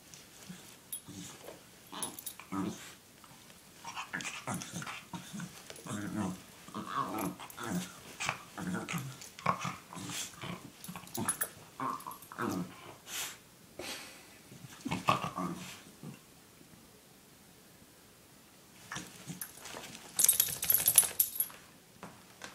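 A dog whimpers and snuffles close by in irregular bursts, with soft growly breaths and a brief metallic clink near the end.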